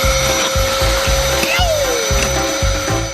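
Loud, steady suction roars as candies are slurped up through a straw from a tabletop, a droning hum pulsing in regular bursts, with faint higher whistles and squeaks on top.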